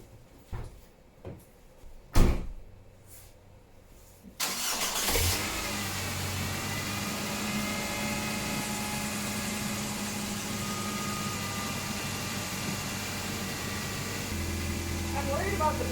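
A van's engine cranks and catches after an alternator swap, following a few clanks and knocks, then settles into a steady, fairly loud idle that runs to the end.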